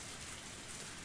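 Steady rain hisses softly in a Higurashi When They Cry scene, a faint, even wash of falling drops with no voices.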